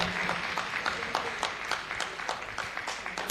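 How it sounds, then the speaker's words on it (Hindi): Audience at an Islamic school naat and speech competition prize ceremony claps steadily, a moderate, crowded patter of many hands lasting several seconds without clear talk. "जोरदार तालियां।"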